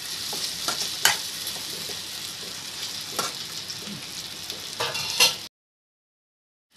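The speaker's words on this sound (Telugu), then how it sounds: "ఆయిల్లో మగ్గిపోవాలి బాగా." Mango pieces fry in hot oil in a home kitchen, a steady crackling sizzle broken by scraping clicks of a spoon stirring the pan, running evenly before cutting off abruptly.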